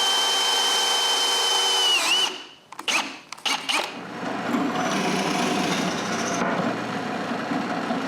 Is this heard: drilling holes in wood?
yes